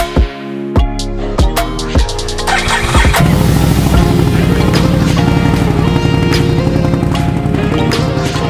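A rebuilt Can-Am Renegade ATV engine fires after a few cranking bursts, then settles into a loud, steady, close running drone.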